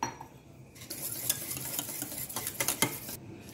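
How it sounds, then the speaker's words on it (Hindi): A spoon stirs and whisks half a cup of curd in a metal bowl for dahi arbi, giving quick repeated scraping and clinking strokes close by. The strokes are irregular and fairly faint, and no one talks. "मैंने यहाँ पर 1/2 कप दही लिया और इसको अच्छे से फेंट लेना है"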